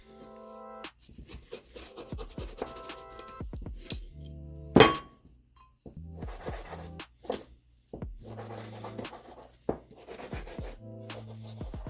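Rag wiping and rubbing over bicycle parts from a 1992 Trek being cleaned with Varsol, in scattered close scrubbing strokes with a few light clinks and one sharp knock of metal.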